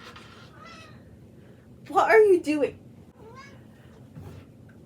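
A pet cat named Binky gives one clear, fairly close meow, a drawn-out rising-falling call with a short second part, while someone speaks softly before and after.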